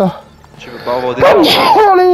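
A person sneezes once amid French conversation while a video game plays, with voices talking before and right after the sneeze.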